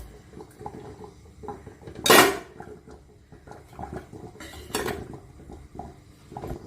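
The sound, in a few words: steel bowls placed inside a pressure cooker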